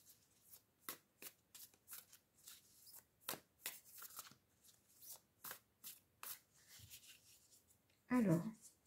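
Oracle cards, the French Grand Oracle deck, shuffled by hand in a quiet room: a steady run of short, crisp riffling flutters, close and soft, ending with a brief louder handling sound.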